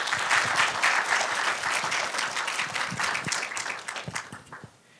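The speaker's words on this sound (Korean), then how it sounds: "다시 한번 큰 박수 부탁드립니다." Applause at a provincial student council session in Jeollanam-do, a large audience clapping loudly and densely, then thinning out and fading near the end.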